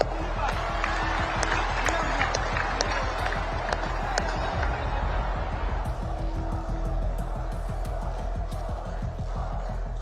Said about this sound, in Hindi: हो जाए ताली आज आपके नाम पर।